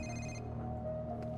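A telephone rings in a Spider-Man video game: a brief, bright electronic ring that cuts off after a fraction of a second, leaving a steady low background hum.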